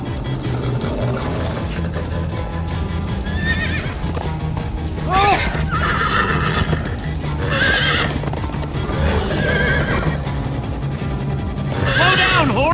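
Horse in Minecraft Story Mode galloping with a steady drumming of hooves under repeated loud, wavering neighs, with game music and character voices running underneath.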